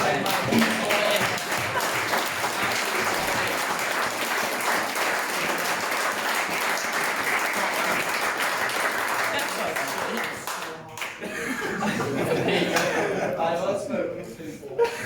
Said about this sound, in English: Everyone clap him.